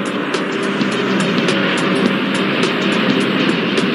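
A big jet roars steadily down the runway on takeoff in the airport traffic-control game Airport Madness 4, a loud continuous engine rush with faint periodic ticks on top, no voices.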